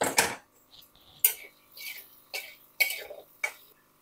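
A spoon scrapes and clanks against a pan of potatoes cooking under a lid, giving five or six sharp metallic strokes at irregular intervals with quiet gaps between them, close by and with no voices.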